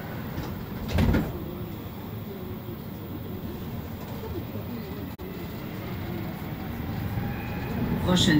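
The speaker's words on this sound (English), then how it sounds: "Oh, this looks like a nice new train." Montreal metro train standing at a station, sliding doors closing with a brief thump followed by a steady hum of the train, a voice speaking over it.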